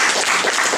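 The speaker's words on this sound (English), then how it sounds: "no one has ever applauded that story" Brief burst of steady applause from a comics convention panel audience, moderately loud and uninterrupted.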